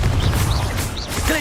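Confringo fire spell blast in the Hogwarts Legacy video game, a loud rumbling burst with crackling, whooshing texture and thumping low end, close and continuous, with short whistling tones overhead.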